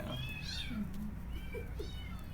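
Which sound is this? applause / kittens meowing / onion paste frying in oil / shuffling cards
kittens meowing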